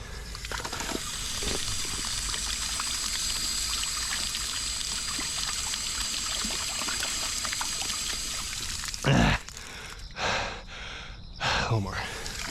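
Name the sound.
filling a water bottle during a run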